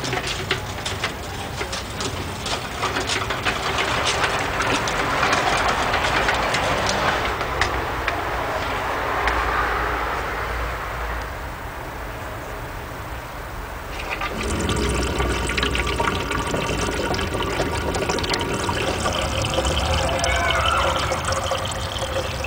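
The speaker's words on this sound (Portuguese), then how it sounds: "A máquina movida a água." Monjolofone, a water-powered mechanism, running with a steady wash of flowing water and clattering noise, loud and continuous, its texture shifting partway through.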